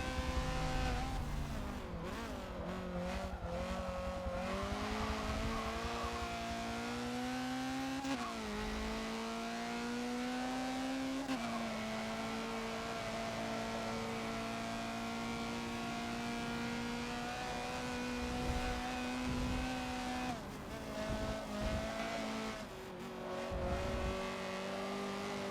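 A Honda CRX races around the West layout of Circuit of the Americas in Forza, its engine droning steadily and climbing in pitch through long pulls, dropping at shifts and braking points, with occasional tire scrub.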